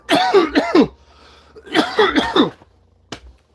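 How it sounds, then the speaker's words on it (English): Someone getting over a cold coughs in two close clusters of harsh, loud coughs with a quiet pause between them, then a short sharp click. "Those coughs are totally unrelated."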